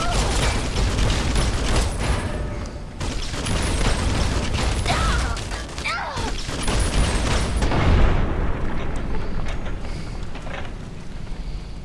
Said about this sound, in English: I'm not great at aiming with the grenade launcher.